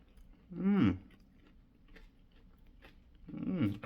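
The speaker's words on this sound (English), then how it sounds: "So I'm gonna take a bite into my freshly homemade bread and a tomato and pap chow sandwich." Two bites into a sandwich of freshly homemade bread, tomato and pak choi, each a close, brief crunching chew separated by a quiet pause, no talking.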